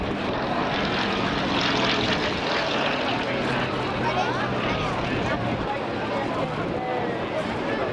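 A propeller aircraft drones loudly and steadily throughout at the Blackpool Air Show 2023, its engine roar filling the whole stretch with a constant rough hum while a voice talks over it.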